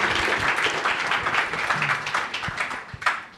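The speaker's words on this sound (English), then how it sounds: "Round of applause." An audience at a cocktail competition event claps for a few seconds, a moderate burst of many hands that thins slightly toward the end, with a few louder single claps.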